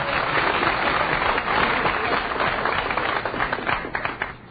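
Studio audience applause from Marines seated in the front rows at a 1950 radio quiz show, a dense, lively burst of clapping that thins out and tapers toward the end on a narrow, vintage-sounding broadcast.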